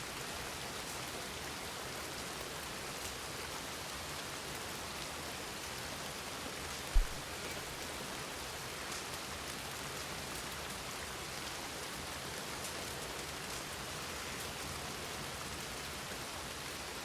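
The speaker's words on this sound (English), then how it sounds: "Hell of a downpour right now." Heavy rain pours down in a video game set in a Western world, a steady dense hiss of drops drumming on surfaces, constant and enveloping for the whole stretch with a single brief knock partway through and no talking.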